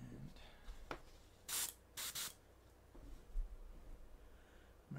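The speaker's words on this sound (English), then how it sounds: "marine teal, spray it out a little bit," Airbrush spraying marine teal paint as a glaze, giving short hissing bursts: two clear blasts close together plus a few fainter puffs, separated by quiet pauses.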